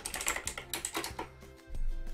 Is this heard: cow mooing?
no